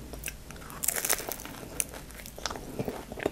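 Biting into a crunchy egg roll filled with ground pork, clear noodles, mushrooms and carrots, with close, loud crunches followed by steady moist chewing, no talking.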